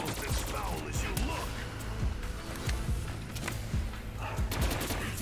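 Gunfire and fireworks-style explosions from a fireworks gobblegum in Call of Duty Zombies, Der Eisendrache map: dense, continuous bursts of rapid shots and pops with layered game noise throughout.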